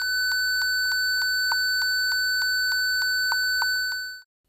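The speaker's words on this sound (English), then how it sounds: "Pressing the right button, the speaker beeps at 1500 Hz" A steady series of short, sharp 1500 Hz electronic beeps from a small speaker on a self-balancing robot, at an even pace, about a dozen in a row, with a faint constant tone underneath.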